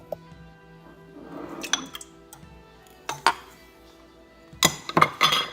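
Two eggs and about one and a half cups of sugar go into a mixing bowl, heard as scattered clinks and taps against the bowl, ending in a quick cluster of louder glassy knocks.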